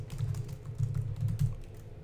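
Computer keyboard typing, a steady run of soft key clicks with a few busier bursts, close and moderately quiet, with no talking.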